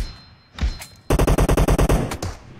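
A rapid burst of automatic gunfire from PUBG Mobile, about a dozen loud, evenly spaced shots after a couple of muffled thumps, then a brief trailing shot.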